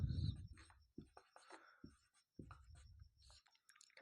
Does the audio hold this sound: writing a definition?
yes